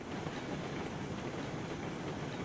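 A long freight train runs on rails in the video game Railroads Online, a steady, dense rumble of wheels and cars with faint clickety-clack, loud and continuous throughout, with no talk.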